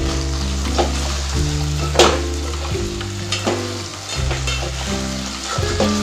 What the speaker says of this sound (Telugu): ఇలా ఆయిల్లో ఉడకనిస్తే మంచిగా ఫ్రై అవుతాయి అన్నమాట